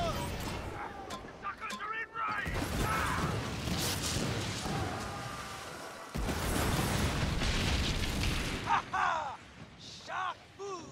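Ship cannons firing a broadside in the Skull and Bones naval video game, a long rolling series of booming blasts and crashes layered with game music and effects.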